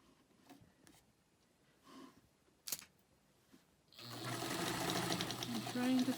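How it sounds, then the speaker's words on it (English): Sewing machine stitching a quarter-inch seam on a quilt block, running steadily and loud near the end after a few quiet clicks and handling noises, with a person speaking. "Trying to sew an accurate 1/4 inch seam."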